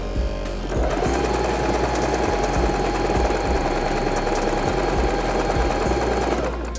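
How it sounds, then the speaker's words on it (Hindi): An Usha Janome Dream Stitch electric sewing machine stitches a zigzag pattern, its needle motor whirring and chattering close and steady for several seconds before stopping. "अब हमने ज़िगज़ैग करा है"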